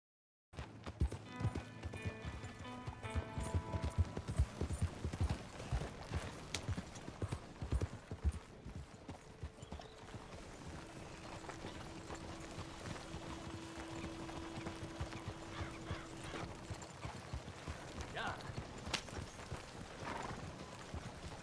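Horse hooves clip-clop while riding in the Red Dead Redemption 2 video game, a steady galloping rhythm under a brief whinny and background game sound.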